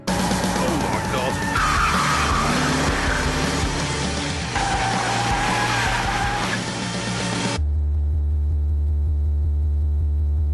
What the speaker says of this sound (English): I am going sideways. I am power sliding.